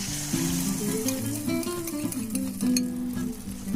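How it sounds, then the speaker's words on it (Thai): Eggs for a Thai stuffed omelette sizzle and crackle in hot oil in a pan, a steady frying hiss with occasional clinks of a utensil. "พอน้ำมันร้อนดีแล้วเราก็จะมาเติมไข่ลงไปเลยค่ะ"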